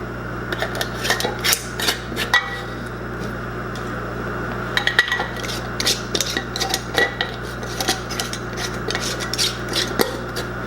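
Metal rings are screwed finger tight onto glass canning jars of cherries in wine, producing close, repeated raspy metallic scrapes and small clinks in short bursts with no talk.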